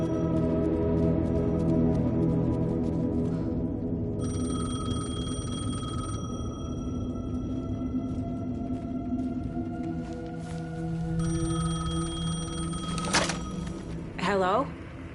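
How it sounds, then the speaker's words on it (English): A payphone rings in two sustained bursts of bright, steady electronic tone over a dense, humming tonal backdrop, fairly close and loud. "The payphone was ringing."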